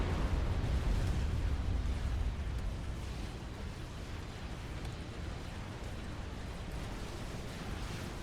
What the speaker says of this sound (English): the AI is going to nuke the mid lane here